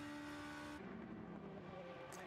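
Race cars roaring through a virtual Le Mans 24 Hours racing game, a steady engine drone that drops in pitch as a car passes, faint and continuous with no talk.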